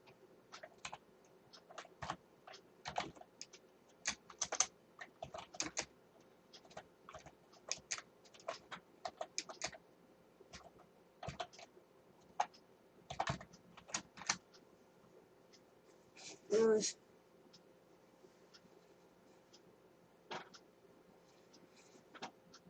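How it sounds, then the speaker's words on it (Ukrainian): Rapid, uneven keystrokes on a computer keyboard while entering a search for GTA San Andreas cheat codes in a web browser, close and fairly quiet, arriving in short bursts with brief pauses and one louder cluster near the middle. "І пишемо в пошку коди на GTA San Andreas."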